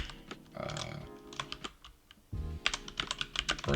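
Fast clattering keystrokes on a computer keyboard while C# code is typed, bursts of close, crisp clicks broken by a brief pause, with no talking.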